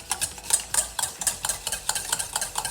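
Red velvet cake ingredients stirred together in a small bowl, a rhythmic series of close scraping, clinking strokes of a utensil against the bowl, steady and fairly quiet with no talking.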